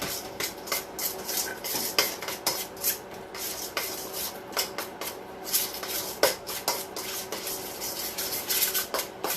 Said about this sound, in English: I go ahead and stir the cheese and the sour cream together.